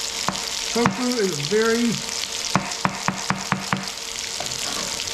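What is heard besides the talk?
green onions sizzling as they fry in pan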